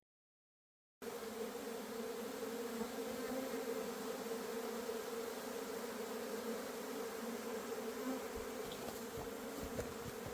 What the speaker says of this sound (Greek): Οι μέλισσες όταν σμινουργούν δεν είναι επιθετικές εφόσον το μόνο που θέλουν είναι ένα καινούριο σπιτικό